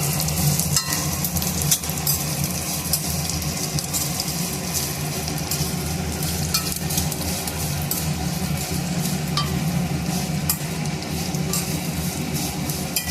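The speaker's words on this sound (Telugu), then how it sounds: "ఇప్పుడు సేమియాని ఇందులో వేసుకోవాలండి. మిక్స్ చేసుకోవాలి." Semiya vermicelli is stirred in a pan for payasam, giving a steady scraping and sizzling texture that runs without a break, close and moderately loud.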